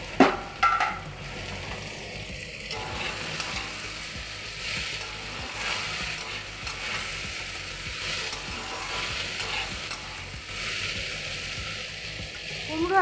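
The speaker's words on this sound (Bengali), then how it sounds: "কুমড়ো আলুটা খুব ভালো করে আমি ভেজে নিয়েছি।" Pumpkin and potatoes fry in a pan for a hilsa fish-head dish, a steady sizzle running throughout with occasional scraping stirs and clatter up close.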